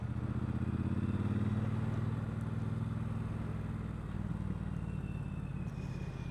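A Triumph Bonneville Bobber motorcycle engine rumbles steadily at low revs while being ridden, a close, throbbing drone that eases slightly partway through with faint wind noise.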